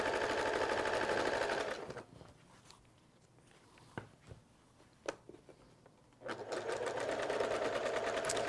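A sewing machine stitching a quilt block runs loud and steady, pauses for several seconds of quieter handling noises and clicks, then whirs back up to a continuous fast hum.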